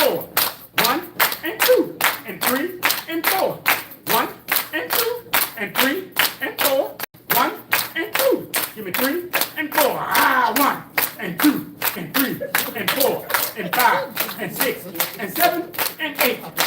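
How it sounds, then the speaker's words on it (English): Rhythmic hand clapping from a senior mobility and balance exercise class, steady repeated claps over many seconds, with an instructor's voice counting and calling cues over it. "And hand clap, hand clap"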